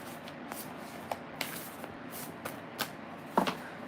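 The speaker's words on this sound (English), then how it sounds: "One more shuffle." A brief tarot card shuffle close by, soft papery riffles and light taps scattered over a few seconds, with no voices.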